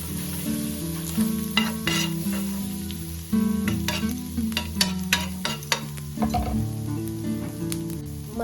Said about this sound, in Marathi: पॅनवरती थोडंसं बटर टाकायचं बटर चांगलं वितळलं आहे तर त्यात टाकूया थोडीशी कोथिंबीर आणि पावभाजी मसाला